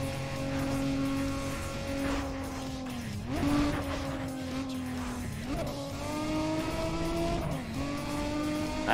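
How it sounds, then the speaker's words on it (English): A V6 race car engine in NFS ProStreet holds a loud, steady drone, then dips and climbs again with each gear shift. No voices are heard over it. "can you hear that sound of this V6"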